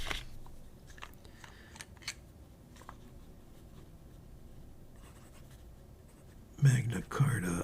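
Broad nib pen, a Bach model, scratching across paper in soft, steady strokes, faint and close, followed by a couple of louder rustles and taps near the end.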